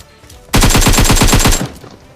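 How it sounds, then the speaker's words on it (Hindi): Rapid automatic gunfire from the mobile battle-royale game PUBG Mobile, a single loud burst of about a dozen evenly spaced shots lasting just over a second, then quiet. "देखो दूर गोलियां चल रही थी"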